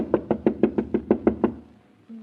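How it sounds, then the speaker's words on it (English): Nine even knocks rap on a locked door in quick, steady succession, close and fairly loud, then stop and leave a short quiet pause. "they knocked and knocked, but the door was locked"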